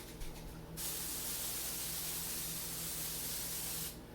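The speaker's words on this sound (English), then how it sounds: "I'll spray a pan with some of this canola spray" A continuous hissing spray of canola cooking oil onto a pan lasts about three seconds, loud and close, then stops abruptly.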